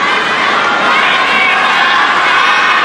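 A dense crowd at a China Open men's doubles table tennis match cheers and shouts loudly and continuously, a sustained roar with no breaks.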